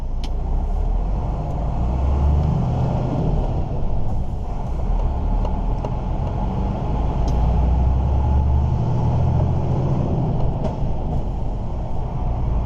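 A car travelling along a French motorway-area road on diesel, a steady loud low rumble of engine and tyre noise running continuously throughout with no pauses.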